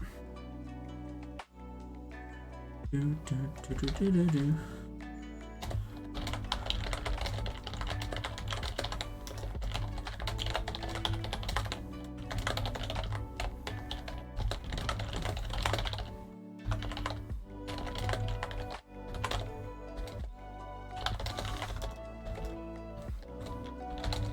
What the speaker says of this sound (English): Sorry, you're welcome for the ASMR. That was me posting the link out.